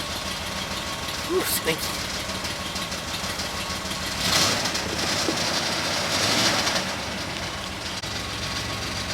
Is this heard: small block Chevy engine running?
yes